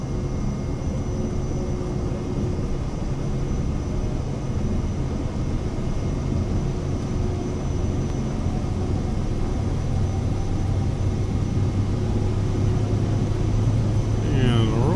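Cirrus Vision Jet takeoff roll in Microsoft Flight Simulator, a steady loud jet engine rumble and whine with road-like rolling noise throughout, building slightly near the end.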